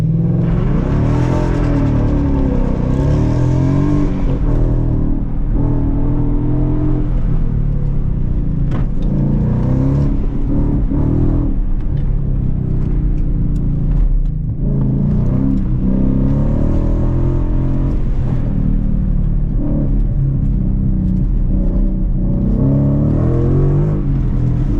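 A Ford Mustang with traction control off accelerating hard through a slalom course, a loud, close engine roar that rises and falls in pitch with each change of direction, heard from inside the car.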